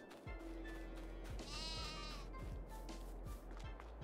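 Sheep bleat several times in a farm game, with one long wavering bleat near the middle and shorter calls around it, over a steady low ambient hum and a few soft thuds.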